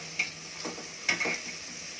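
Masala paste cooks in hot oil while a spoon stirs it, giving a soft sizzle with a few light scraping taps against the pan, quiet and close.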